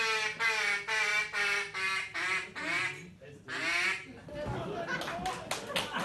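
Contestants at a duck call competition imitating duck quacks: a loud, rapid series of evenly spaced quacks up close, pausing briefly, then a few more before giving way to murmuring crowd noise.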